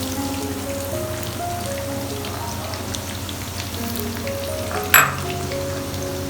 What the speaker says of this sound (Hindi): अब जो ऑयल बचा है इसमें हम दोबारा ये जो प्याज है ना इसको फ्राई कर लेंगे इसी ऑयल में